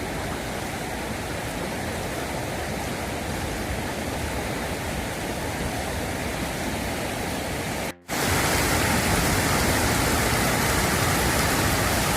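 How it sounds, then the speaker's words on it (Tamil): Loud, steady rush of water pouring heavily over the Nadhi Unni dam, a dense roaring wash that briefly cuts out and returns even stronger. "அந்த சைடு அருவி மாதிரி தண்ணி விழுது நல்லா ஃபோர்ஸாகவே விழுந்துச்சு"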